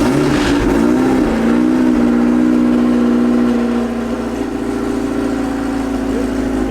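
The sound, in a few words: Ford Mustang GT engine starting and running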